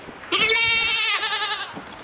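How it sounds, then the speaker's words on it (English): A baby goat in the witch video game REKA gives one loud, close, wavering bleat lasting over a second, tailing off with a softer trailing cry. "Okay, but baby goat."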